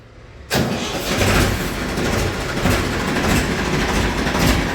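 After a brief quiet moment, a Ford tractor engine cranks and roars to life, then settles into a loud, steady rumbling idle nearby.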